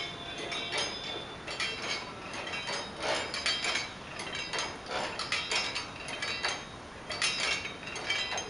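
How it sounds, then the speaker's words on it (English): A motorized double-acting hacksaw machine driven by a Scotch yoke mechanism runs steadily, giving a continuous mechanical clatter with repeated ratcheting clicks and rattles at a moderate level, with no voices. "the shaft generates the circular motion which makes the Scotch-yoke unit to give circular to linear motion and makes the to and fro"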